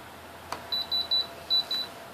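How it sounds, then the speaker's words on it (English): A series of short, high electronic beeps from a Spektrum DX6i radio transmitter binding to a 350 QX quadcopter, in an uneven rhythm, about five or six tones, fairly clear against a quiet background with a small click early on. "That beeping is the dx6i talking to the 350"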